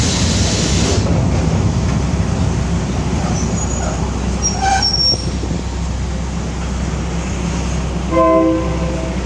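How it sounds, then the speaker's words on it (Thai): Train noise at Mahachai railway station in Thailand: a loud, steady rumble of rail cars throughout, with a short horn-like tonal blast near the end. No one speaks. "เสียงแต่นี่ก็โคตรสุดยอดเลย"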